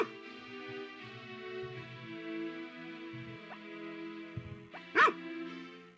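Dog barks in the Harvest Moon video game, short chiptune-style yips over steady game music, with a louder bark near the end.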